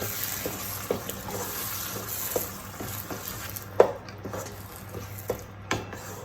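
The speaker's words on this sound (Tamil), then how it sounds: "இப்போ நம்ம அரைச்சி வச்சிருக்க கீரையை ஆட் பண்ணிக்கலாம். இது நல்லா வதங்கணும்." Ground gongura leaves sautéing in a pan for Andhra-style pickle, a steady low sizzle with scattered sharp spoon scrapes and taps against the pan, fairly faint and close, no talking.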